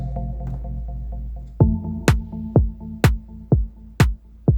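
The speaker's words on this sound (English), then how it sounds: "Very simple kick and snare." A simple electronic beat from a Novation Circuit Tracks drum machine kicks in over a droning synth tone, with delay and reverb: punchy kick and snare hits alternating at a steady mid tempo.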